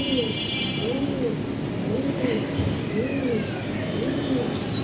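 Racing pigeons coo in a slow repeating rhythm, soft throaty calls recurring about once a second over steady background hum, close and moderately loud.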